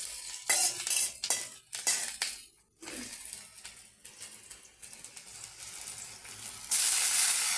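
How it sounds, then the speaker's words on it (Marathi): Spring onion and green chili frying in a pan for a fenugreek-leaf dish, a steady close sizzle with scattered sharp clinks of a utensil against the pan and a louder hiss surging near the end. "कांदा टाकायचं, मिरची टाकायची, थोडासा कांदा असा तळून घ्यायचा."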